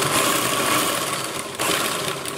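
A sewing machine stitches a chudithar top with a continuous fast mechanical whir close by, briefly easing off midway before running on again.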